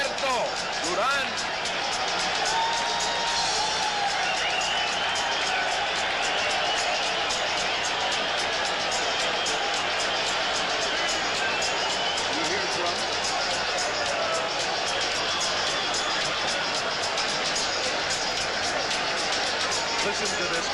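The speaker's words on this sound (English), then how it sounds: "Listen to this crowd." A boxing arena crowd roars as Roberto Duran enters for his fight against Sugar Ray Leonard, a dense, sustained wall of cheering and babble that holds steady for about twenty seconds.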